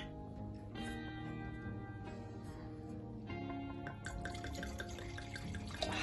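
Red wine from a screw-cap bottle at a teaching winery, 12.5% alcohol, pours with a steady liquid gurgle and glug throughout, close by, with music playing underneath.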